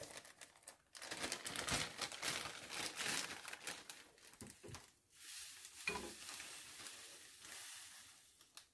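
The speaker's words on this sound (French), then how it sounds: "Je mélange bien le tout." Ingredients, including oats and grated coconut, stirred together in a bowl to make a thick yogurt, giving soft scraping and crinkly rustling strokes that rise and fall, fairly faint and without speech.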